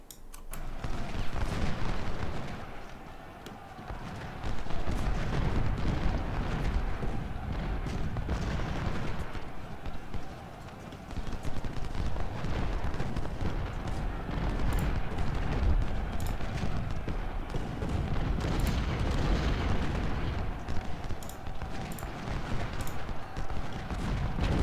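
Continuous heavy cannon fire and booming explosions from a Civil War battle at South Mountain in the video game Ultimate General: Civil War, dense and loud throughout with only brief dips.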